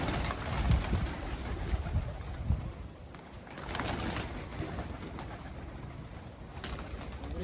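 A pigeon coos in low, soft repeated calls close by, with faint outdoor rustling and background noise around it.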